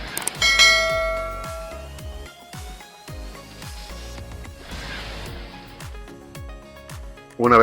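A household doorbell chimes loudly at the start, its ringing tones slowly decaying over a steady rhythmic music track, then a second sharp burst of chime tone sounds at the very end.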